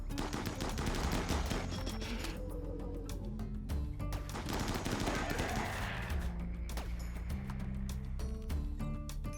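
Sustained automatic rifle fire in the RimWorld video game, with dense overlapping bursts and shots continuing loudly throughout over a constant background of in-game sound and music.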